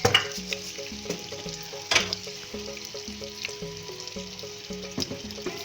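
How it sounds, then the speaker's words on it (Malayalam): Mustard seeds splutter in hot oil in a pan while cooking squid curry, with sharp scattered pops and crackles over a steady sizzle, close and fairly quiet, no talk. "കടുക് ഇട്ടിട്ടുണ്ട്. ഇതൊക്കെ പൊട്ടട്ടെ."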